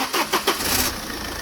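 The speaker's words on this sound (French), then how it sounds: "on va démarrer le moteur" A Peugeot 206 2.0 HDi diesel engine cranks in a few quick starter bursts, then catches and settles into a steady, close idle, with no talking.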